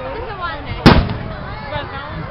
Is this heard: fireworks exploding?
yes